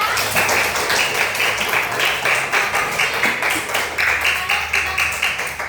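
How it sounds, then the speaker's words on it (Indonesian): A classroom of pupils claps together during a teaching session, the hands beating in a quick, regular rhythm of repeated bursts that stays loud and close throughout. "Beri tepuk tangan untuk kita semua."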